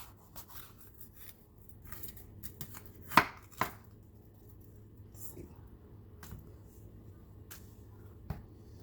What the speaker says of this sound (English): Cut that pepper up.